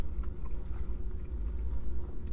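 Someone bites into and chews a crispy KFC Boxmaster MAXX wrap with fried chicken fillet and creamy pepper sauce, giving soft, close munching with faint crunchy crackles and no talk.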